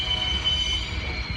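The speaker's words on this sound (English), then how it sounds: "The train is obnoxious. That noise is like nails on a chalkboard." Loud, continuous high-pitched squeal of train wheels on rail, steady and piercing throughout with low rumbling beneath, heard near with no talking.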